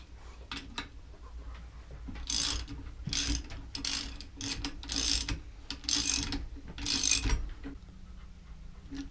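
A ratchet wrench tightens a bolt on an engine stand while work starts on a new engine for an Acura RSX. Close, steady bursts of rapid metallic clicking repeat in several strokes, with short pauses between them.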